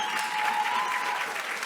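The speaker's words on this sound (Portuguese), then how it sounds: "Uma salva de palmas a sério para todos estes brilhantes músicos que gratuitamente aqui vieram." Concert audience applauding musicians at a lecture-concert on Armorial music, a steady, dense wash of clapping close by, sustained throughout without talk.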